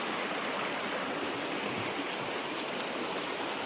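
Steady broadband rush of a river flowing beneath a long bridge along a hiking trail, a continuous near wash of moving water with no pauses and no voices.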